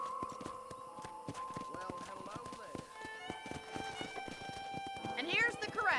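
Horses in a ranch corral in Red Dead Redemption on PS5 clop their hooves in a steady, close rhythm, and a whinny rises near the end, all under ongoing talk.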